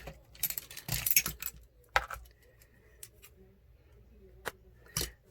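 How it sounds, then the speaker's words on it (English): Scissors snip through a rubber band with a few sharp, close metallic clicks and rustles spread unevenly across a quiet room, separated by near-silent gaps. "I'm just going to cut this rubber band off."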